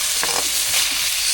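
Steak for quesadillas sizzles loudly in an oiled pan in a brief, steady, close-up hiss with no one speaking.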